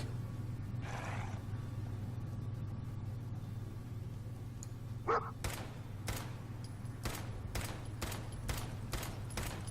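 In Fallout 4, a companion dog barks at an enemy: a string of sharp, evenly spaced barks and bursts over a steady low game hum, with an earlier muffled noise and a louder thump.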